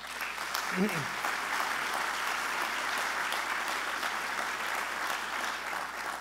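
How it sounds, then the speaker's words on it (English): An audience applauds after a speech, producing dense, sustained clapping that fills the hall, with a brief voice near the start. "So give yourselves a round of applause."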